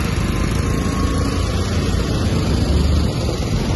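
A BMW M1000RR motorcycle engine runs loudly and steadily close by at a park, a dense continuous roar with no talking.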